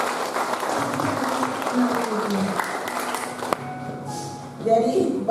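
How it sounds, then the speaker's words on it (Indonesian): A church congregation at a Thanksgiving service claps for an elderly man, a dense round of applause that cuts off abruptly, after which a voice speaks. "Tepuk tangan Bapak."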